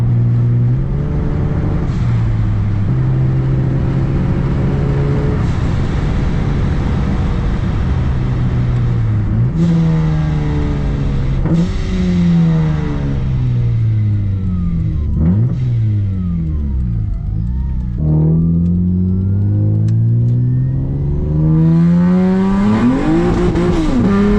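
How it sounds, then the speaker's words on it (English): A supercharged Acura TL Type-S engine drones loud and steady, revving up and down through gear changes with sharp breaks where the throttle lifts and the blow-off valve releases, close and continuous with no talk. "my favorite thing ever, just hearing the blow-off valve"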